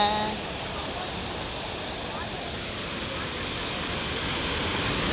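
A waterfall in Surigao del Sur roars close by in a steady broadband rush of gushing water, continuous and unchanging.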